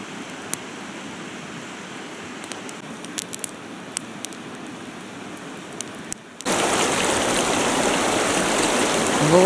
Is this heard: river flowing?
yes